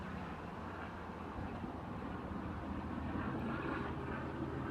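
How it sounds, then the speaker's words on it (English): A helicopter passes overhead again and again, heard as a steady, broad low rumble of rotor and engine noise that holds level and swells slightly toward the end, with no talk over it. "Got this helicopter that keeps flying over for some reason. It's been going back and forth."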